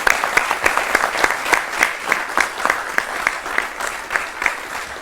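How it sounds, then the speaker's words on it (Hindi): A studio audience on a defence news debate show gives loud applause to welcome guests, a dense, rhythmic clapping with regularly spaced sharp accents that carries on throughout. "जोरदार तालियों के साथ इन सभी का हम स्वागत करते हैं।"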